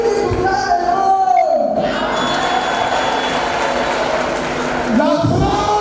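A church congregation cheers, shouts and applauds together in a loud, continuous roar of voices, with overlapping acclamations rising and falling throughout.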